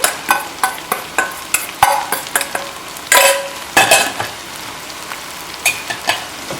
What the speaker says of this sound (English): Give it a good stir, and it's going to cook for another 4 minutes, 4 to 5 minutes